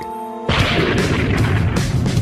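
Explosion sound effect for a galaxy cluster blast in a space documentary, a sudden loud boom that swells into a sustained roaring rumble, alone with no talk.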